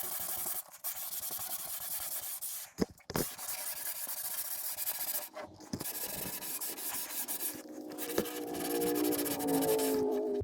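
A bare hand pressing sandpaper around the edge of a wooden river table, a soft dry scuffing that comes in repeated strokes with brief pauses, close and moderately loud.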